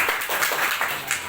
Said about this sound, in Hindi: तो फिर ताली तो बजा सकते हो सभी।